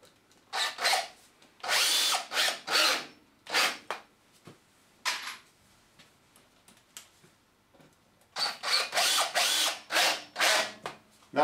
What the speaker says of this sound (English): and then I'll pull that down with the screws.